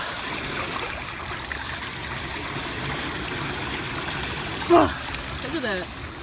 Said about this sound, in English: It's literally like a mini river.